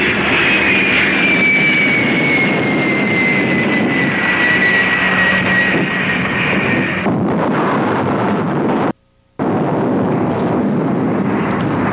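An airplane in a war film scene over an Eskimo village roars past overhead, loud and steady with a descending whine over the first seven seconds, then dense rumbling, a brief dropout, and the roar resuming.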